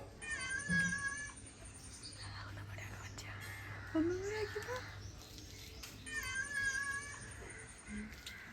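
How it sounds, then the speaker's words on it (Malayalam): A cat meows several times at close range, with soft whispering voices and rustling between the calls. "പൂച്ചയുടെ സൗണ്ട് റെക്കോർഡ് ചെയ്തിട്ടേ അതിനെ പറ്റിക്കണേ"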